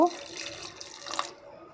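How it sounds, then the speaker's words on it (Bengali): Water is poured from a small amount into a chicken feet and masoor dal curry mixture, a brief soft trickling splash close by that lasts about a second and then stops. "অল্প একটু পানি দিয়ে দিব"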